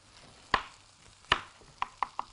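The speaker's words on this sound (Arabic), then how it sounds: "بعد كده نجهز بصل ناعم، عبارة عن بصلتين ناعمين جدا، نقطع تقطيع ناعم خالص" A knife chops onions finely on a cutting board for an Egyptian hawawshi, giving five sharp, close taps: two spaced strokes, then three quicker ones, with no talk.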